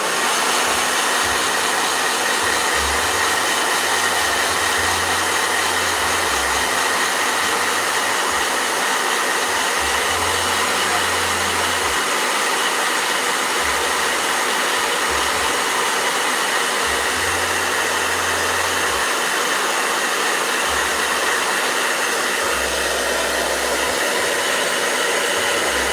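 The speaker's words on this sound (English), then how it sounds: "Blow dryer." A blow dryer runs loudly and steadily at close range for a long stretch, its constant whooshing roar pulsing slightly as it shifts position.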